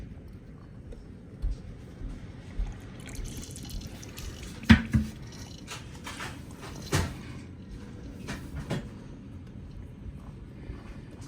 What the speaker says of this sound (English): Just keep pouring some more in here.